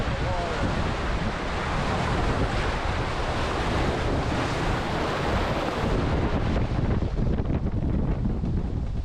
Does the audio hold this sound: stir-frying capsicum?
no